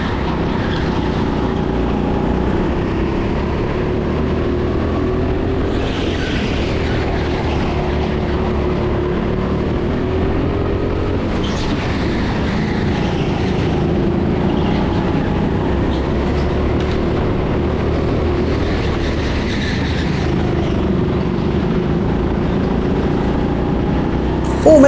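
Go-kart engines racing on an indoor TeamSport track in Sheffield, a steady, loud, continuous drone with small rises and falls in pitch as the karts lap.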